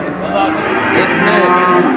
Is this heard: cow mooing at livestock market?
yes